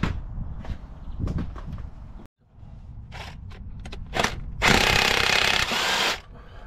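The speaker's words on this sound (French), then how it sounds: "On va desserrer la poulie en bas." A ratchet works loose the lower pulley on a Renault 1.5 dCi engine, with bursts of clicking and metallic rattling, then a sustained harsh high-pitched whir, close and fairly loud amid workshop clatter.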